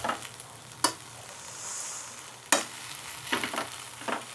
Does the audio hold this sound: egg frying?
yes